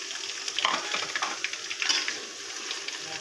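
Crushed garlic, dry chili and panch phoron frying in hot oil, a loud, busy crackling sizzle with bursts of spitting, heard up close and without any voices.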